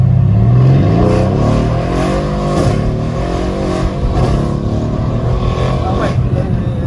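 A Brabus 650 car pulls away hard from a standstill, its engine a loud, close, continuous roar that climbs in pitch as it accelerates, with voices talking over it.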